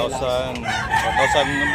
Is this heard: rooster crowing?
yes